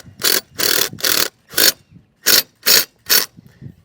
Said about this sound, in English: Then there's this self-tapping screw. It's a Phillips head. Go ahead and run that down.